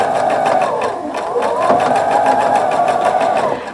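A sewing machine runs steadily, stitching a lace border onto a tablecloth with a close, even rapid whir and rhythmic needle chatter, under a faint voice.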